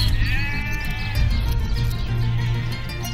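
Sheep bleating in the fantasy role-playing game Divinity: Original Sin Enhanced Edition, a wavering bleat standing out over a steady low game hum and ambient background.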